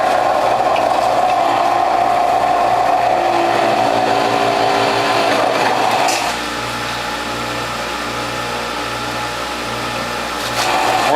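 A WHF juicer fitted with a near-zero blowback cutter grinds a whole head of garlic, a loud, steady mechanical whir with a rhythmic churning under it and a shift in pitch midway, close and without talk.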